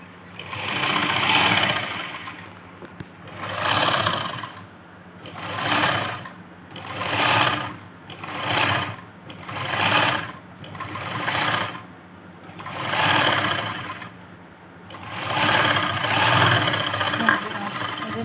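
A sewing machine stitches piping into a neckline in repeated runs of rapid mechanical whirring that rise and stop over and over, each run lasting a second or two, with quiet pauses between them.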